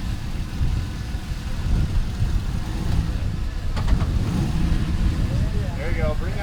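An off-road vehicle engine rumbles low and steady while slowly throttling out on a winch recovery, with a faint whine near the end and wind noise throughout.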